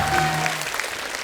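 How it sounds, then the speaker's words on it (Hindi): A studio audience applauds a guest on an Indian television show. The clapping is brief and moderately loud, opens with a tonal swell and thins out within about a second. "इनके लिए जोरदार ताली"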